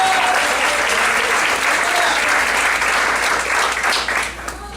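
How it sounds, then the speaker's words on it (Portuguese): A church congregation applauds loudly and continuously, a dense close wash of clapping that fades slightly at the end. "Se você acredita, pode aplaudir a terra."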